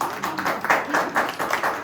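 Hands clap at a book presentation in a quick, close run of claps, with faint room murmur underneath.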